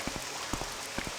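Rain falling in the video game Morrowind, a dense, continuous hiss with several soft, close pattering thumps scattered through it.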